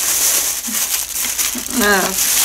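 A plastic shopping bag from the Magnit store crinkles close by in bursts of crisp rustling, with a brief spoken voice mixed in toward the end.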